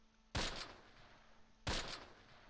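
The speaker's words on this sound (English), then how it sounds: "And still rifle fire coming from the building" Two sharp rifle shots ring out from a building in the Close Combat war game, each a sudden loud crack with a short decaying tail, about a second and a half apart over a quiet low hum.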